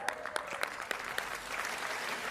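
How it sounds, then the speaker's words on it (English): An indoor audience at an awards ceremony claps in a burst of scattered, crisp hand claps that thin into a steady patter, with no speech over it. "Let's give him an awesome hand clap."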